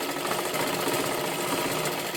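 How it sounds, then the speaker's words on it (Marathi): A sewing machine stitches around the full edge of a girl's one-piece dress in a fast, even mechanical whir with rapid needle ticks, heard close and alone. "हे पहा अशा पद्धतीने पूर्ण शिलाई मारून घ्यायची आहे"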